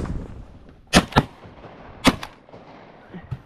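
Shotgun blasts fired at a flock of geese on a river during a hunt: two quick booming shots, then a third about a second later, loud and sharp with a faint echo and quieter thumps after.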